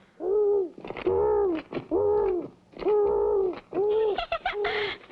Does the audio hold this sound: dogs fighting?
no